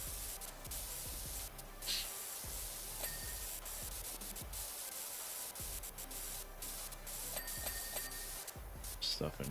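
Pressure washer spraying in the PowerWash Simulator video game, cleaning a dirt bike's disc brakes and forks, a steady broadband hiss running throughout with slight surges, while someone talks over it.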